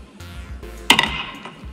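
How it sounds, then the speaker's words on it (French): A single gavel strike marks the UN General Assembly adopting a resolution. It lands as one crisp, close tap with a brief metallic ring over quiet hall ambience. "c'est ce petit coup de marteau qui lance officiellement les négociations en 2018"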